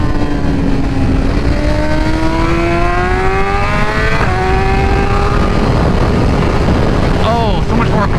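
A 2024 BMW M1000XR motorcycle accelerating hard, its engine note climbing steadily through several gear pulls, loud and continuous with a sharp shift and wind roar toward the end.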